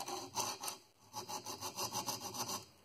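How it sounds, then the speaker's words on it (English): A metal file rasps across the teeth of a Disston backsaw during sharpening, the strokes repeating in a steady rhythm of about a dozen short, close scrapes with no talk. "you can see where I've actually done the filing by that reflection"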